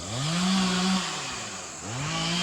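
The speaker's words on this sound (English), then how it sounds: "Got some chainsaw going on up there." Chainsaw cutting trees outdoors, its engine revving loudly, easing off to a lower idle, then revving back up, with clear rising and falling pitch sweeps.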